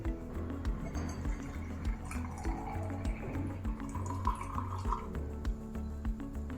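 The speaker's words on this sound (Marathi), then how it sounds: "आणि यामध्ये घालूयात एक ग्लास भरून माठातलं गार पाणी" Cold water from a clay pot trickles into a glass holding flower petals for an herbal sherbet, a gentle liquid fill sitting under steady background music.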